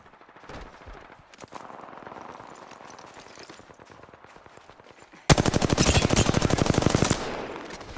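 Video-game gunfire: bursts of rapid automatic shots, first a lighter scattered stretch and then a loud, dense sustained volley lasting a couple of seconds before easing off, with no talking.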